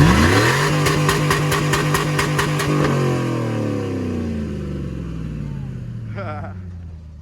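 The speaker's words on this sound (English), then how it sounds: "I've never heard a muffler delete at 6K." A 2000 Chevrolet Silverado V8 with a muffler delete and a failing 4L60E transmission revs hard and loud, climbing in pitch and then winding down in a long falling drone, with a brief voice near the end.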